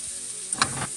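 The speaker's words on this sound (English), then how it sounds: "I then pop it in the pan in the heated oil." Diced onion and pepper sizzling in heated oil in a pan for an Ital vegan ackee and celery dish, a steady close hiss broken by a couple of brief clicks near the middle, with no talking.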